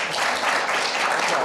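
Brief applause from an audience at an expert panel on agricultural research, a dense patter of clapping hands at moderate volume.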